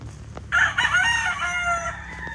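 Roosters crow loudly and chickens cluck nearby in a muddy farm flying pen holding national, early bird and local breeds, a single long crow standing out over the background clucking.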